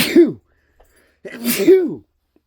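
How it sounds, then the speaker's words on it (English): Two sharp sneezes, close and loud, separated by a short quiet pause. "Oh, man, I got to sneeze."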